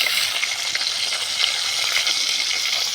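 Hilsa fish frying in a pan, giving a steady, dense crackling sizzle that stays even and close throughout with no voices.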